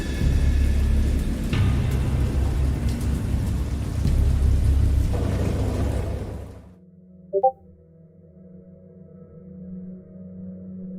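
Heavy, steady roar of rain from a thunderstorm sound effect with low rumbling thunder for several seconds, then it cuts off to a quiet hum with a brief beep.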